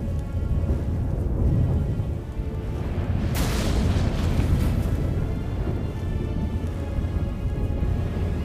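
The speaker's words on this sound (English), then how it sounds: "That a storm?" A thunderstorm in The Witcher 3: Wild Hunt, a continuous wash of rain and wind broken by a sudden loud thunder crash partway through that rolls on and slowly fades back into the downpour.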